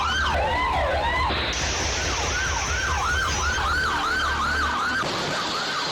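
A loud wailing police siren sweeps up and down repeatedly during a high-speed chase over steady traffic rumble, with a higher tone layered in partway through.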